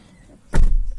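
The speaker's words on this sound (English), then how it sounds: "unlock manually and then unlatch the door" Manual unlocking and unlatching of a door on a 2018 Hyundai Elantra Sport or 2017 Ioniq Hybrid: a single sharp mechanical clunk after a quiet pause, followed by a low lingering thump, close by with no talking.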